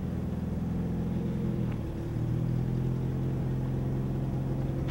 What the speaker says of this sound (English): That's how a free Toyota looks cruising through my yard